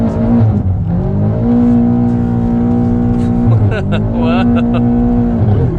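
A BMW F90 M5 driven hard in rear-wheel drive mode gives a loud, close engine roar that rises and falls through revs and gear changes, with a brief exclamation from a voice.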